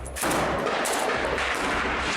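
Dense, sustained gunfire rattles without pause during city fighting in Syria, where the army attacks rebel-held districts, heard loud and unbroken with no talking.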